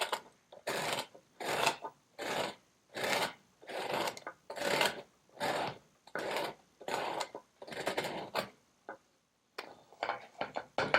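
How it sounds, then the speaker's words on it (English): Bread is rubbed against a hand grater in a steady rhythm of about a dozen close, raspy scraping strokes with short pauses between them, heard without any talk. "with your dominant hand, grate the bread down"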